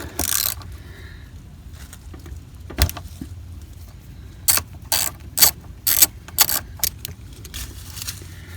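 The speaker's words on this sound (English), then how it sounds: "I'm ready to go ahead and remove that drain plug with this 3/8 inch" A 3/8 inch drive ratchet loosening a drain plug during an oil change on a Cummins 6.7 engine, with close, crisp ratcheting clicks in short bursts, mostly bunched toward the end after a quieter stretch.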